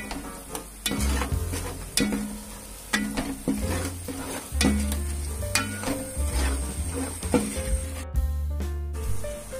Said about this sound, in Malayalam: മസാലക്കൂട്ടുകൾ ഒരു 10 സെക്കൻഡ് വരെ ഇതുപോലെ ഇളക്കി കൊടുത്താൽ മതിയാകും. ലോ ഫ്ലെയിമിലിട്ട് തന്നെ ഇളക്കണം.